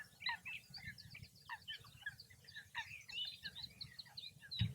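Great crested grebes calling in a wetland: a dense run of rapid, harsh chirping and clucking calls, fairly close, with a low rumble underneath and a brief thump near the end.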